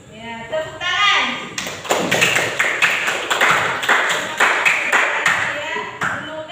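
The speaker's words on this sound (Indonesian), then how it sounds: "Ya, tepuk tangan." A classroom of children claps together in a burst of quick, uneven applause, loud and close, with a teacher's voice and kids' chatter briefly heard at the start and end.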